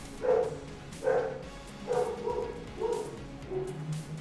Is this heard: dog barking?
yes